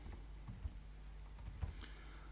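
A few scattered keystrokes on a computer keyboard as a command is typed, quiet and close, with sparse clicks over a low hum.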